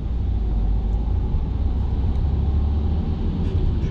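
A car pulls away and gathers speed through a city centre in the morning, a steady low engine rumble heard from inside the cabin, even and continuous without talk.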